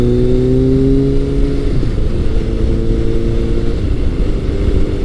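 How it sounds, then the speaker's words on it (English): A Kawasaki ZRX1100 motorcycle at full throttle from a launch, its engine note climbing in rising harmonic sweeps, then a gear change and another loud, close build of revs. "The ZRX is going to wheelie if you give it full throttle in first gear."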